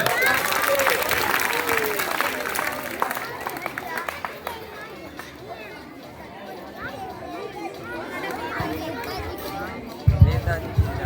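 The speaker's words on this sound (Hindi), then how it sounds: "जोरदार ताली हमारे नेताजी के लिए" A crowd claps and cheers for a leader at a comedy play, loud at first and then thinning into scattered clapping and chatter, with voices throughout.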